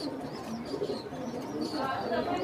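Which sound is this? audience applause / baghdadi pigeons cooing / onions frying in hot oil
baghdadi pigeons cooing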